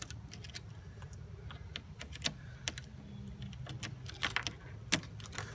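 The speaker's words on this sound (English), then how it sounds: "I put the key in." Key inserted and turned in the lock of a Thule platform bike rack carrying e-bikes, faint scattered metallic clicks and jingles, close but quiet over low outdoor background.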